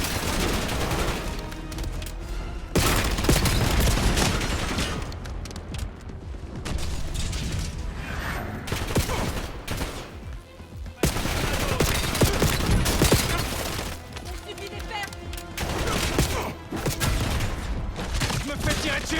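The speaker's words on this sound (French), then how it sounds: "Je me fais tirer dessus." Dense, close gunfire from the Call of Duty Black Ops 7 video game, with rapid bursts and volleys almost nonstop and a few short lulls between exchanges.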